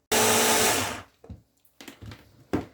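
Kitchen blender loudly purees beans with fried onion and carrot for a pâté in one steady close whir of about a second, then stops, followed by a few soft knocks and shifts.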